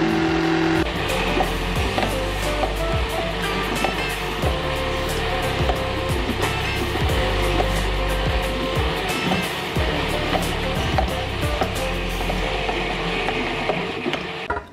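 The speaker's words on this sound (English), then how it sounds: "we've got the nuts in my Vitamix and I'm just got it on like in between 3 and 4" A Vitamix blender set between speeds 3 and 4 whirs loudly and continuously as it blends nuts, its motor steady and close for the whole stretch, with nuts grinding and rattling inside and no voices.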